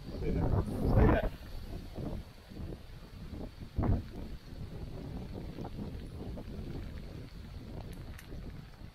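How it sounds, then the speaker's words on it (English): Strong wind buffets a rocky, wet fell in Cumbria, a steady broadband roar with a couple of heavier gusts striking the microphone early on. "Very windy"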